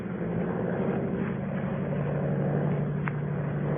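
A monoplane climbing into the sky, its propeller engine giving a steady, droning hum at moderate distance, continuous and unbroken.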